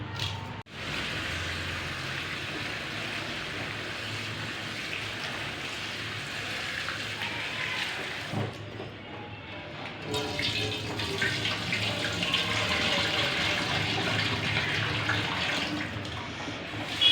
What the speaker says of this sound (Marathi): आता स्वच्छ पाण्याने चांगला 2-3 पाण्याने धुवून घेते मी